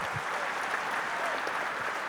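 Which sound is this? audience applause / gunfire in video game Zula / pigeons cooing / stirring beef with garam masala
audience applause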